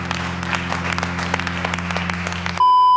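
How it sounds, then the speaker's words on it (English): An audience claps in a brief burst of continuous applause over a low steady hum, cut off abruptly by a sustained electronic tone. "So make sure you keep clapping,"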